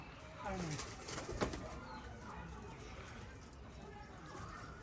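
White pigeons bred from a keeper's own stock coo softly in a loft, the low calls faint and partly buried under a murmur of voices and background noise.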